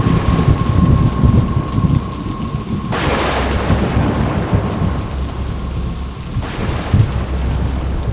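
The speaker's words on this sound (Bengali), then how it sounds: "গ্রামে পা রাখতে না রাখতেই বৃষ্টি শুরু।" Heavy rain pours steadily in a village while thunder rumbles and cracks twice, loud and close, over a continuous dense hiss of rainfall.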